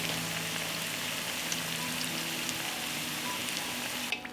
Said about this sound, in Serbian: Nakon 4 minuta prženja okrećemo na drugu stranu i nastavljamo da pržimo.